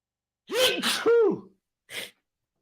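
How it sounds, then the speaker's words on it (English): A person with allergies sneezes twice in quick succession, close and loud, with a short sharp breath or sniff following after a pause. "I keep sneezing."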